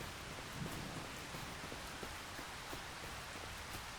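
Rain falls on a farm in a steady, soft hiss, with scattered drops pattering faintly on surfaces and no other sounds.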